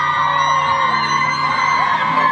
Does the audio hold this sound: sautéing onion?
no